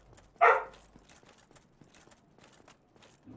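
A single sharp dog bark rings out close and fairly loud, then gives way to a quiet room with faint scattered clicks and soft thumps.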